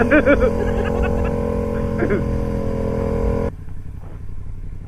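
A motorcycle engine revs hard through a wheelie, loud and close, with rising and falling pitch before cutting off into quieter background noise and faint chuckling.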